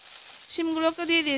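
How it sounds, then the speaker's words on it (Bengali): Cut broad beans tipped into a pan of frying potatoes, sending up a sudden loud sizzle with crackling bubbles that holds steady for a second or so. "মিনিট 2-3 মতো আলুটাকে একটু ভেজে নেওয়ার পর এবার আমি কেটে রাখা শিমগুলোকে দিয়ে দিচ্ছি"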